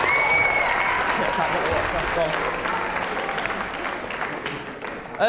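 Audience applause at a college talent show, loud and sustained clapping from a crowd, with a voice speaking over it and a brief squeal near the end.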